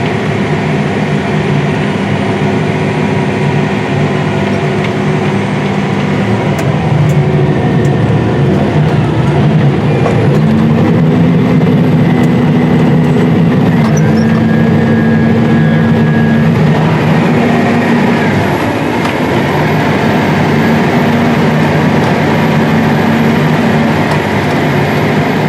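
A Versatile 450 Delta Track tractor runs steadily in a field, a loud, continuous heavy engine drone with a shifting mechanical whine partway through, close and unbroken for the whole stretch.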